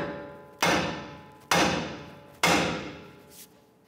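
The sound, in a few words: hammer striking a Ram 1500 steering knuckle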